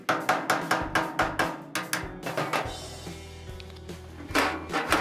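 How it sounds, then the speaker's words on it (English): Rapid blows from a large hammer ring out on a metal Snap-on tool box, knocking out dents in quick bursts, pausing briefly before another flurry of strikes. "A large hammer gets out some base dents."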